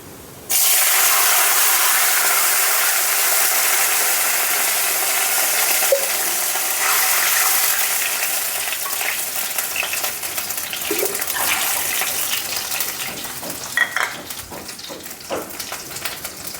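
Water pours into a cooking pot of fried cumin while making jeera rice, a continuous hissing splash lasting many seconds that gradually thins and softens toward the end.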